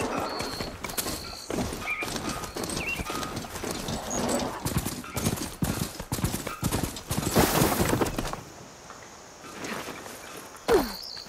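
Mount's hooves in Horizon Forbidden West clop steadily at a walking pace through most of the stretch, fairly close, with rustling ambience and a brief whinny-like cry near the end after the steps stop.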